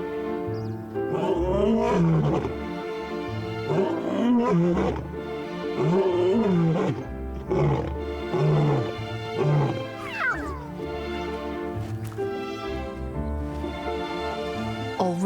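Lion brothers in the African wild roaring repeatedly, with deep, loud, rhythmic grunting calls rising and falling over about fifteen seconds and several overlapping bursts, with no speech.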